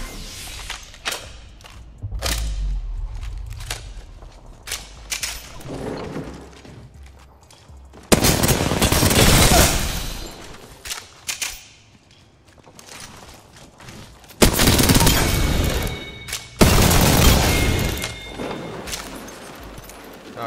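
Video game gunfire in a shooter match comes in heavy, loud bursts of booming shots and rapid fire, separated by quieter stretches with scattered thuds.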